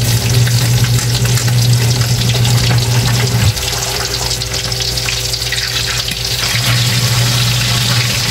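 Dalagang bukid fish frying in a pan with oil, giving a loud, steady sizzling crackle that continues throughout with little change.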